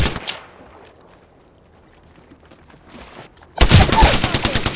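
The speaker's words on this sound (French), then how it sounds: "I am taking fire" Gunfire in the battle royale shooter Apex Legends: a loud burst at the start, a quiet stretch with faint clicks, then a dense rapid volley of close shots to the end.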